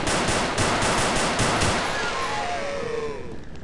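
Rapid bursts of automatic gunfire from the horror video game Afraid of Monsters, a fast rattling volley that cuts off and fades into ringing echoes with no talk.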